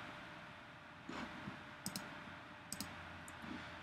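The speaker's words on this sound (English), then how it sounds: "I'm going to click save options" A computer mouse clicks while saving website settings: a few faint, crisp double clicks spaced a second or so apart, close up over a quiet room hum, with no voice.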